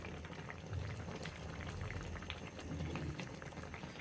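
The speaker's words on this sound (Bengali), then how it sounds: "ধনেপাতাটি সিদ্ধ হয়ে গেলেই আমরা তরকারিটি নামিয়ে নেব" A curry of fresh flat beans and sarputi fish, seasoned with fenugreek and black cumin and topped with coriander leaves, simmers in a pot with a quiet, steady bubbling.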